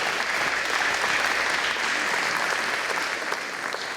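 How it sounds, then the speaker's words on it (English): At a senator's town hall in a recreation center, the audience applauds first responders with a steady, dense round of clapping that stays loud throughout. "Let's give them a round of applause."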